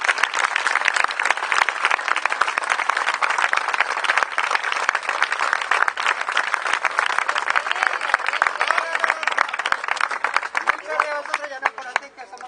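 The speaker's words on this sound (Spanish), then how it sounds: "me gustaría mucho pedirles un gran aplauso a todos aquellos que se han esforzado" An audience at an evening event applauds with dense, continuous clapping that holds strong for the whole stretch before thinning slightly at the end, while a voice speaks faintly over it.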